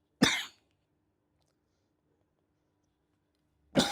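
Two sharp coughs, one at the start and one at the end, separated by near silence.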